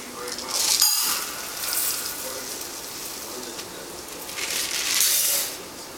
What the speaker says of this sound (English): you incorporate the rice with the butter